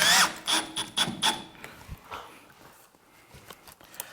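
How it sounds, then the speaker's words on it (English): Screws being driven in while a smoke detector is mounted, a few short buzzing bursts from a driver at close range that fade into quieter handling noise. "Just a couple of screws in."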